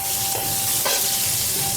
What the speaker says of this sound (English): First step, sear the pork belly.